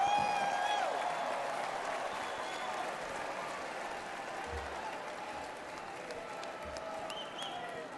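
A large crowd at the Republican National Convention applauding loudly and steadily, with cheers rising over the clapping and slowly easing off.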